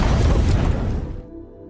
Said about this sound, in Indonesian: Kemudian Lucy melemparkan bom rakitannya ke dekat Suyo dan terjadilah ledakan